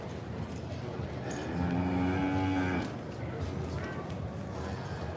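Cattle at a purebred steer sale let out one long, loud moo in the middle of the stretch, set against steady crowd and pen noise while someone talks over it.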